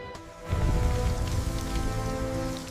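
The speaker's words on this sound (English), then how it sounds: "Acid rain poisoned what little life remained." Steady rain pours down with a dense, continuous patter, fairly loud and unbroken, with no voices.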